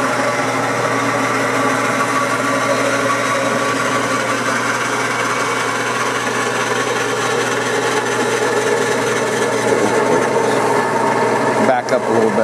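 A Kwik Way cylinder head machine's spindle turns at low RPM in a head rebuilding shop, making a steady, loud mechanical hum and whir that runs throughout, with a brief clunk near the end.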